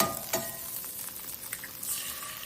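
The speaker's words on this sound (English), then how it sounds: "See how that butter is caramelizing?" Butter sizzles in a blue steel frying pan on high induction heat, a soft, steady hiss that stays close and fairly quiet, with a few brief scraping clicks.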